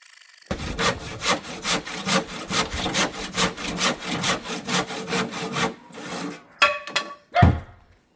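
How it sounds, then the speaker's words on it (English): Hand saw cutting through the wood of a door: steady back-and-forth strokes, close and loud, for about five seconds, then a pause and a few hard knocks and thumps. "The sawing did take round about half an hour."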